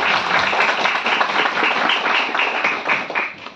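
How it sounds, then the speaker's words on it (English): At a mental health workshop, an audience claps loudly for a speaker; the applause is close and dense, with distinct individual claps, and lasts nearly four seconds without talk. "A big round of applause."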